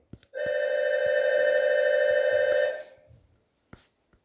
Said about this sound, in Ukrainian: Щось прийшло на телефон. Не знаю, що, але ну, цей звук.